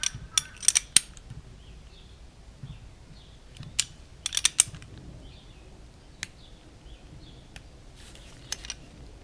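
A Tecumseh 10hp HM100 engine is turned over by hand, giving scattered sharp metallic clicks and ratcheting taps against quiet background, irregular and close.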